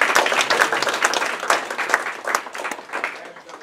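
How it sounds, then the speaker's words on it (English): Lively applause from an audience after a talk on neutron stars, with individual claps standing out from the crowd's steady patter before it gradually thins and fades. "give him a round of applause for that"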